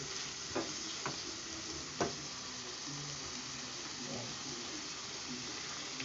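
A sautéed mix for a radish and carrot dish goes into a pan and sizzles softly and steadily, with a few light knocks and stirs over the hiss.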